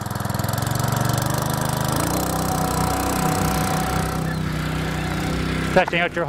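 A Honda pump engine runs steadily after a pull start, its mid-pitched chugging hum filling the space close by, with a brief clatter near the end.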